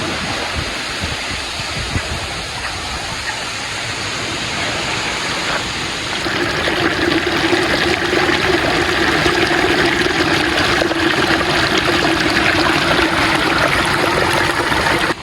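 Rushing water roars steadily and close, growing louder and fuller partway through, a continuous churning flow with no voices; a strong river current swollen by frequent rain at Balon Falls.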